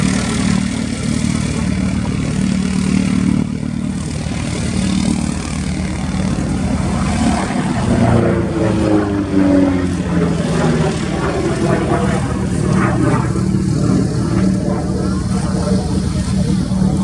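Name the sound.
P-51 Mustang propeller fighter flying in air display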